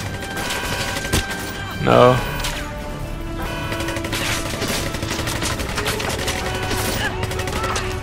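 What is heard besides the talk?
gunfire in video game James Bond 007 Legends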